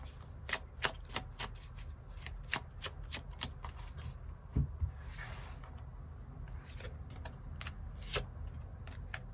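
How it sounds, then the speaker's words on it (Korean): Tarot cards being shuffled and drawn by hand, a quiet run of crisp, rapid riffling snaps and papery rubs repeating steadily throughout, close and alone with no talk. "추가 카드 뽑아보도록 하겠습니다"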